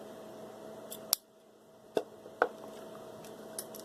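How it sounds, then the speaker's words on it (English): Small scissors snipping an LED's positive lead wire for a craft rose, giving three sharp separate clips spaced about a second apart, close and fairly quiet over a faint steady room hum. "Next, we're going to trim down the positive lead"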